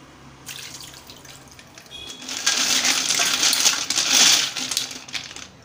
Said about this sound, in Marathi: ह्याला स्वच्छ पाण्याने धुवून घेऊया